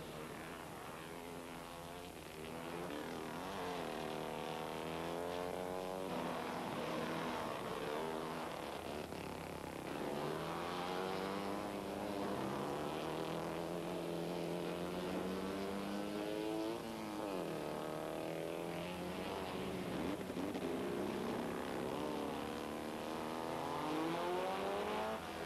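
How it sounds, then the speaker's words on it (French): A historic Cooper race car on its finishing lap at a Montlhéry historic race gives a loud, sustained engine drone, rising and falling in pitch as it shifts and accelerates, with no voices. "Alessandro Ripamonti, l'Italien, sur sa Cooper qui va franchir la ligne d'arrivée."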